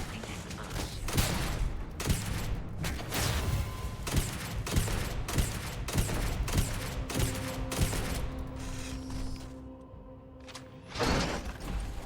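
Rapid bursts of gunfire from a video game, repeated sharp shots in quick volleys with mechanical clanks between them, loud and close, then a brief lull before a final shot.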